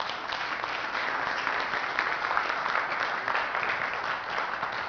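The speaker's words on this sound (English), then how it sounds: "let's give a very warm round of applause" Steady, dense applause from a large audience at an authors' summit, loud and sustained throughout with no voices standing out.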